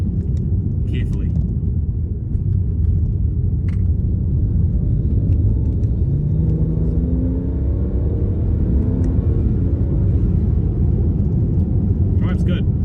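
Steady, loud road and engine rumble from a BMW 335i cruising on a wet road in bad weather, with a rising drone midway and faint clicks over the continuous wash.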